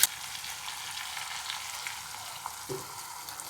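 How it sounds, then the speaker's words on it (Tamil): Eggplant sautéing over high heat in a pan with garlic and chili powder, a continuous bright sizzle and crackle with a few small pops and one soft stir or scrape near the end. "கத்திரிக்காய் ரொம்ப நல்லா வதங்கிடணும் ஃபுல் சிம்மில் வச்சுட்டு வதக்குங்க"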